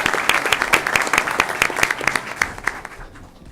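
A round of applause rises at a school board meeting honouring middle school students, with brisk mixed clapping from a modest crowd that fades within a few seconds.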